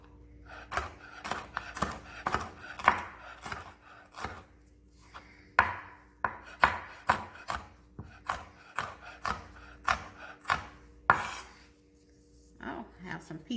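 A knife chops vegetables on a cutting board for a classic lasagna, striking in quick, uneven bursts of sharp close thuds separated by short pauses, while a voice talks softly in between.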